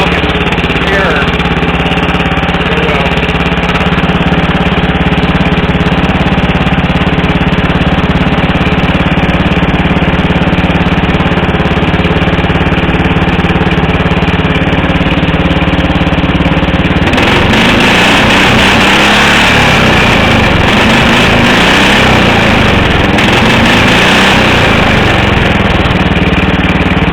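Racing lawn mower with a modified exhaust idling low close by, a steady rumbling burble that sounds like a Harley, growing rougher and louder over the last ten seconds.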